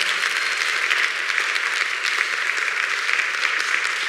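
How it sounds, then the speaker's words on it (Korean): An audience at a lecture-style talk event claps steadily, dense even applause from many hands filling the room with no talk over it. "박수 좀 같이 보내드렸으면 좋겠어요."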